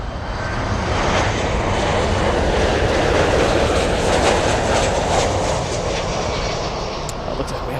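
An American Airlines plane in special livery arriving at Miami airport, a loud, sustained jet engine roar that builds and then eases as it passes close by.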